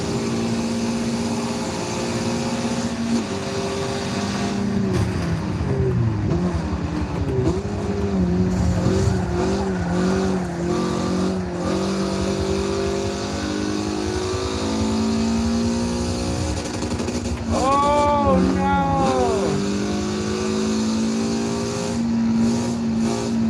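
A Mazda Miata engine in the racing game Forza Motorsport 7 screams to redline, its revs rising and dropping through repeated gear changes, with tire squeal and a brief sharp pitch sweep near the end, loud and steady throughout.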